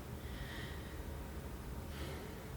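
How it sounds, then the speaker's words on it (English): A slow, deep breath drawn in and let out, soft and airy with two faint swells of breath noise over a low steady background, no talking. "you just take a deep breath"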